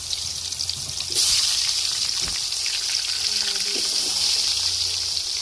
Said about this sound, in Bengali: দিয়ে দিলাম আলুটা ভাজার জন্য